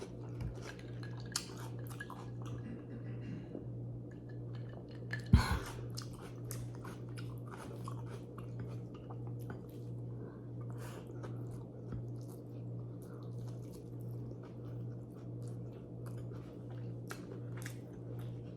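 Someone chewing beef bistek with rice, soft close wet chewing and small crunches over a steady low hum, with one sharper knock partway through and no speech.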